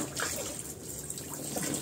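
Water splashing and trickling as a young child named Yana bathes to cool off in hot weather, a steady close wash of splashes with no clear voices.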